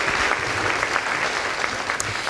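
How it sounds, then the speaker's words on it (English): A pageant audience applauds the Queen candidates and the Little Miss and Master contestants, a dense, steady wash of many hands clapping at once that holds at an even level for the whole stretch. "Let's give the future Queen candidates a round of applause"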